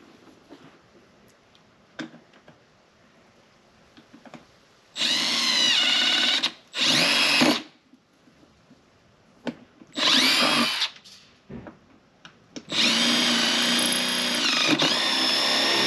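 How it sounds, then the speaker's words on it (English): Power drill boring into a panel on an 80 Series Toyota Land Cruiser during a dual battery install, in four loud bursts of whining drilling separated by quiet pauses, the last run the longest. "So I drilled up against this edge, and then up against this edge, and then I just ran the drill bit in between."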